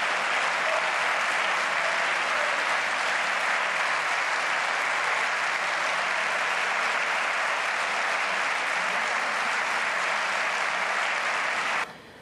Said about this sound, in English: Massive applause in the audience in the Spanish parliament